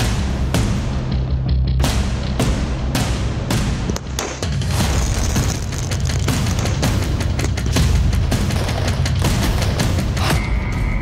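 Firecrackers set off in a New Year celebration burst in a dense, loud volley, sharp cracks and booms piling over one another almost continuously with a brief lull partway through.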